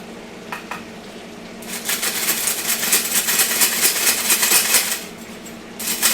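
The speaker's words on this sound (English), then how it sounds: "Oh yeah, sizzling up." Steady crackling sizzle of chicken tenders frying in a pan, loud and close, rising after a quieter start with a few clinks, then easing off briefly.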